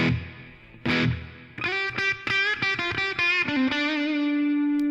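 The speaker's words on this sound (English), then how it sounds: "And right now we will have a plate reverb." Electric guitar through a TONEX ONE pedal, notes ringing out one after another, strummed and picked, each bathed in a bright, shimmering plate reverb that lets the final note sustain.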